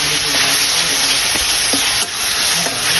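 Onion and garlic paste frying in soybean oil with garam masala in a pan, a steady close sizzle with faint stirring scrapes throughout.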